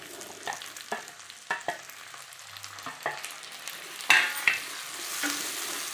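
Tomatoes and garlic frying in a pan for drumstick-leaf soup, a soft continuous sizzle broken by a series of clinks and scrapes from stirring, close by with no talk.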